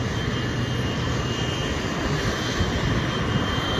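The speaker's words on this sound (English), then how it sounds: "I'm taxiing the jet from the back here" Steady, loud jet engine roar from an F-100F Super Sabre fighter jet taxiing, with a low rumbling drone and broadband hiss, continuous throughout with no pauses.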